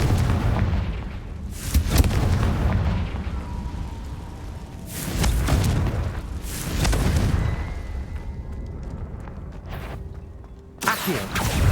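A Confringo blasting spell cast in a video game, heard as a series of loud booming explosive bursts with whooshing tails, spaced a few seconds apart and ending in a sharp final blast.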